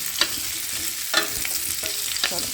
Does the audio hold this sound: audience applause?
no